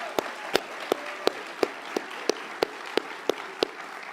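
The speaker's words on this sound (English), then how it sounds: "Let's give them a round of applause." Sparse clapping at a mayor's State of the City address in Little Rock: a dozen crisp, evenly spaced claps about three per second, close and distinct over a quiet room.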